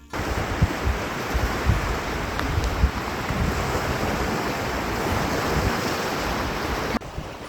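Loud, continuous ocean surf rolls and hisses onto a Baja shore, a dense steady roar with gusts of wind across the microphone, close and with no voices.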